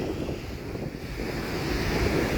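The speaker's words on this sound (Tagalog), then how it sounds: "Yan ang kampas ng dagat." Sea waves breaking at Mercato Beach in Jumeirah, Dubai, a steady, dense roar of surf mixed with wind buffeting the microphone, continuous and fairly loud with no voices.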